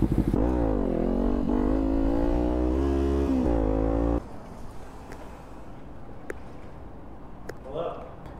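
A Kawasaki Z400 motorcycle revs and accelerates through rising engine notes for about four seconds, then drops away abruptly to a faint background with light sounds.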